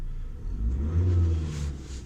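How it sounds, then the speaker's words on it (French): A Ford Transit Custom van's engine rumbles and revs up, a low, steady acceleration growl heard from inside with no talking. "Le moteur est quand même assez bruyant."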